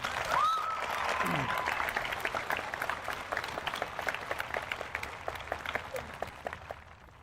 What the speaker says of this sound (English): So one big round of applause again for those speeches.